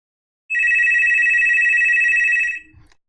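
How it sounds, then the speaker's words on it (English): Home telephone ringing with a steady electronic tone, one long continuous ring of about two seconds that then cuts off, fairly loud and close, with no talking over it. "I don't know why my home phone is ringing."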